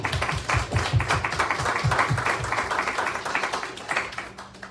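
A crowd at a political gathering in Paterson claps in a dense, continuous wash of applause that fades slightly toward the end, with voices murmuring underneath.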